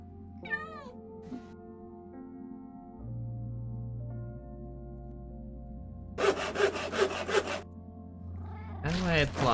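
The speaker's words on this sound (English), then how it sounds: "Cat sounds." Several short synthetic meows from a cat in the Minecraft video game ring out over a steady tonal background hum, alongside scraping, rubbing bursts later on.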